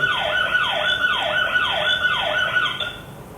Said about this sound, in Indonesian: Kok ini nggak nyala ya sirennya ya?